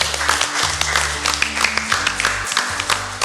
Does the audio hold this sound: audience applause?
yes